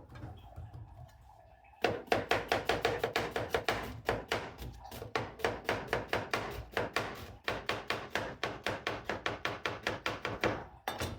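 A knife slices onions rapidly and rhythmically on a cutting board, dozens of quick close taps in a steady, fast cadence.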